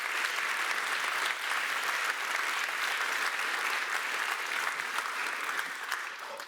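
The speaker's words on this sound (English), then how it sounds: "Let's give them an applause" An audience claps at the closing of a conference, a dense, steady roar of many hands that holds evenly throughout and then fades slightly at the end.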